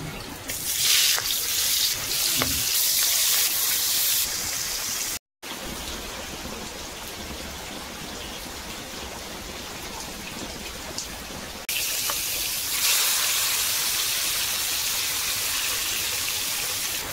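Dense, steady roar of heavy rain pouring down in Assam while fish fries in a kadai, loud and unbroken apart from a brief cutout, its hiss thickening toward the end.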